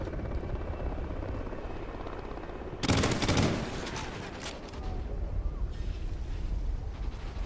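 A loud burst of gunfire from the MSBS rifle in the aerial combat game Warhawk, a short sharp rattling volley that rises over a steady droning rumble of aircraft and battle ambience.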